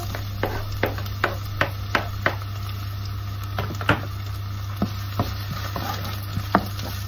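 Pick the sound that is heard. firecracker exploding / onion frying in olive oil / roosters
onion frying in olive oil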